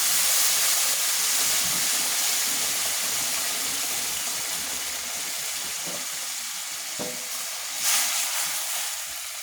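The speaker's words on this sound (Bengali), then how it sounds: "পরিমাণ মতো গরম পানি দিয়ে দিই।" Hot water poured onto fried polao rice in a pot, giving a steady broadband hiss and sizzle of steam that holds for several seconds, with a brief louder surge near the end.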